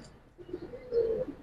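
Silver and bagha pigeons coo close by, one short low rolling call that swells near the end, with no voices.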